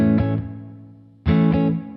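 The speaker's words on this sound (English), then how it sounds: "we're going to switch the reverb back on" Two distorted electric guitar chords ring out through a Keeley DDR drive, delay and reverb pedal, each struck loudly with a repeated attack and decaying into a reverb tail; no voices.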